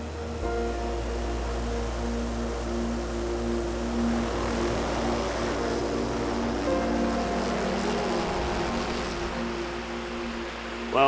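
Helicopter over the remote New Zealand backcountry, a steady loud rotor and engine drone filling the whole stretch, unbroken and close, with no talking.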